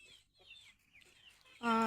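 Faint chirping from chickens is followed by a sudden loud, close cluck from a hen at the end.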